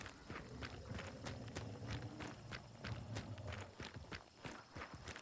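Rapid footsteps run in the first-person shooter Hunt: Showdown, a steady stream of sharp, fairly close thuds over a low rumbling background, continuing without pause and with no voices over them.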